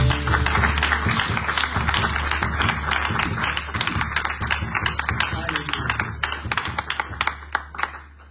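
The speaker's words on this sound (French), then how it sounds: "Ainsi nous t'acclamons au nom de Jésus." A church congregation applauds together in a dense, sustained burst of clapping that gradually thins into scattered claps, loud and close, with voices mixed in.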